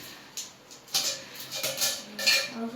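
A cooking pot for making tea is handled close by, giving a few light metallic clinks and knocks scattered irregularly over a quiet background.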